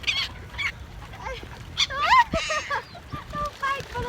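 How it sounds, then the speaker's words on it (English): Swans and ducks being fed at St James's Park, London, giving repeated honks and squawks in quick bursts, close and fairly loud, with people talking nearby. "feeding the swans and the ducks, and I think they're like almost like attacking her already."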